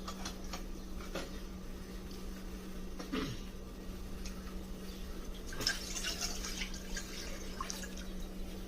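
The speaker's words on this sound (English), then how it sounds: "Add milk. Slowly." Milk pours slowly into a pot for payasam in a quiet, steady trickle with faint drips, over a low constant hum.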